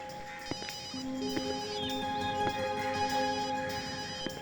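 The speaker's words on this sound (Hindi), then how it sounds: "सर घंटी बज रही है।" A mobile phone rings from somewhere nearby at a crime scene, near a parked car. The repeating electronic ringtone melody is steady and moderately faint over a constant background hum, with no talk.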